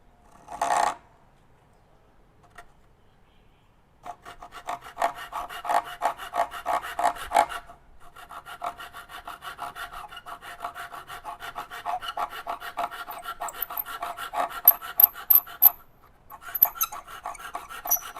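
A hand saw rasps through wood while cutting a bowtie inlay for a crack repair, starting after a quiet gap with rapid even strokes that run steadily, pause briefly, then resume close and moderately loud.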